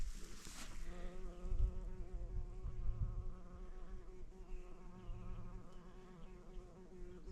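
A bee buzzes near the microphone on a forest trail, a steady close drone with a brief louder pass at the start, alone without talk.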